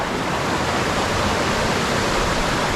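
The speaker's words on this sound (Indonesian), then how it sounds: "hari ini kita sudah sampai di air terjun" Lembah Karaeng waterfall near Gowa roars steadily and loudly, a dense unbroken rush of falling water close by with no voices over it.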